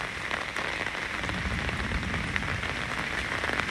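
Steady rain pours down at a graveside, a dense, even patter on surfaces that stays loud and close throughout with no voices.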